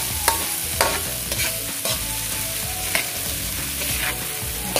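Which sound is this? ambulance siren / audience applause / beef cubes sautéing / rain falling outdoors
beef cubes sautéing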